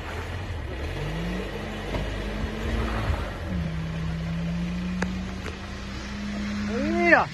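A Benz four-wheel-drive climbs an off-road slope, its engine droning steadily and then rising in pitch as it revs hard, fairly loud and close, while people talk over it.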